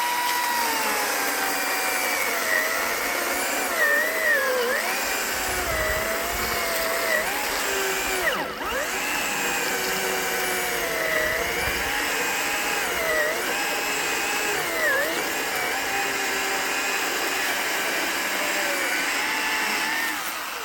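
A Ryobi chainsaw running without a working clutch cuts through wood on a homestead, a steady loud buzzing drone that rises and dips in pitch as the chain bites and eases through the cut.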